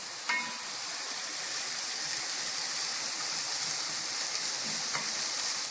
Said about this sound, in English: we're just going to sweat these onions here